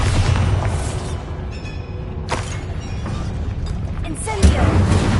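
Bombarda blasting spell cast in Hogwarts Legacy, heard as a dense, rumbling boom-like burst over a busy game backdrop, with a sharper impact near the end.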